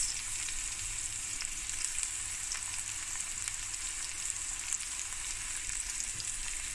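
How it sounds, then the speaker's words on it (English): Minced meat with garlic and onions frying in a pot over the stove, a steady, even sizzle and crackle holding at a constant level throughout with no one speaking. "I also have some mince and garlic onions, nice and frying away"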